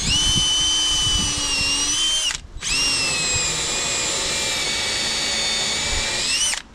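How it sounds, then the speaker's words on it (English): A power drill with a countersink bit bores into a boat's port side frame: a loud, steady whine held for about two seconds, a brief pause, then another long continuous run, close up. "So what I'll do is I'll drill with the countersink here."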